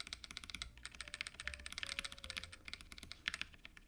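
Rapid keystrokes clatter on a mechanical keyboard, a dense, quick rhythm of close, crisp clicks that stays fairly quiet and runs alone without any voice.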